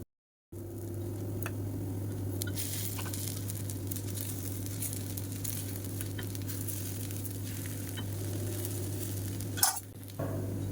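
Paniyaram cooks in a covered pan over a medium flame, giving a quiet steady sizzle with a constant low hum beneath and a couple of small clicks near the end.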